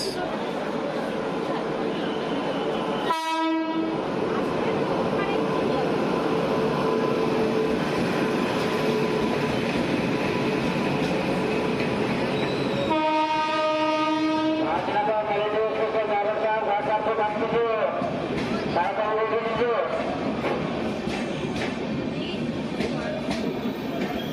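Mithila Express running past an Indian railway station platform, a continuous rumble and clatter of wagons with a loud multi-tone horn blast early on and another longer horn sounding later, with people talking on the platform.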